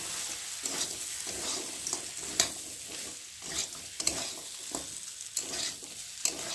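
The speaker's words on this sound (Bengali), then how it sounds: "দিয়ে একটু ভালো করে নেড়ে দেবো" Maggi noodles are stirred in a hot pan, a close, continuous sizzle with a regular rhythm of scraping and knocking stir strokes throughout.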